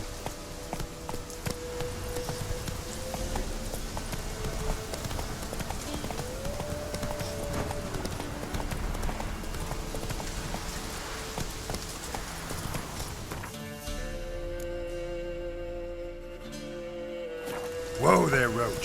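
Galloping hooves of Roach, a horse in The Witcher 3: Blood and Wine, pound in a steady rhythm under a busy game soundscape, then fall away as music swells near the end.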